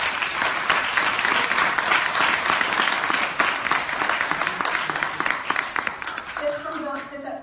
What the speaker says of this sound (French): et je vous applaudis